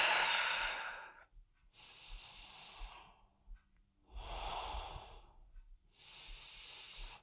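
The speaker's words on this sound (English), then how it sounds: "Take some deep breaths." Slow, deep breaths during a restorative shoulder exercise, several long airy inhales and exhales spaced by pauses, close and soft, with no talking.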